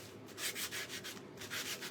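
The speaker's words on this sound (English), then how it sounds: "after I get finished sanding him a little bit." Steady sanding on a carved wooden mouse figure, a rhythmic back-and-forth rasp with repeated strokes, close and moderately loud, no voices.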